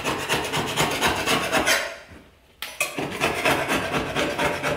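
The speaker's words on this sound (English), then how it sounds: "What we're going to do now is clean off all this adhesive. You can use a scraper." Scraper rasping old adhesive off a kitchen sink, close repeated scraping strokes in a quick rhythm, briefly pausing midway before resuming.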